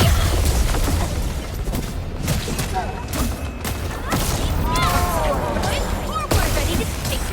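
Gunfire and artillery strikes from the Arknights: Endfield battle rage without pause, a dense, loud wall of rapid shots, booms and crashes, with whooshing effects layered on top.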